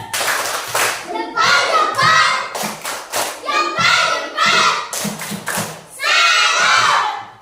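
A group performs the Indonesian 'tepuk salut' clapping routine during a classroom lesson, with rhythmic bursts of hand claps and thumps interleaved with loud chanted voices, close and lively, over roughly seven seconds and ending in a strong final burst.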